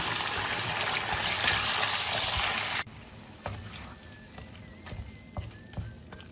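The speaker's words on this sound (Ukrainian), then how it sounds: "Далі викладаємо на сковорідку курину печінку" Chicken liver frying in heated oil in a pan, with a loud steady sizzle at first that drops to a quieter crackle with scattered pops and faint clinks of stirring.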